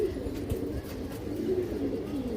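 Pigeons from a stock of racer, giribaz and high-flyer birds coo in low, steady rolling calls, close and fairly loud, running continuously through the moment with no talk.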